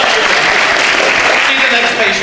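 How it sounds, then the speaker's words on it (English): Audience applause at a hospital residency graduation award celebration: dense, loud, continuous clapping from a crowd of many hands, filling the whole moment without a break. "Applaud."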